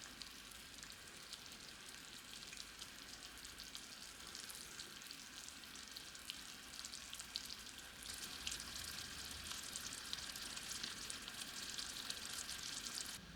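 Caramel syrup of sugar boiling in a pan on the stove, a steady, even bubbling sizzle with soft crackle throughout, fairly quiet and alone with no talking.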